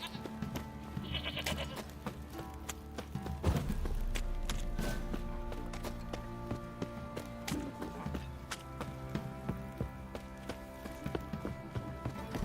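Sheep bleat in The Witcher 3 amid a busy game soundscape of music, footfalls and ambient noise, with no talk.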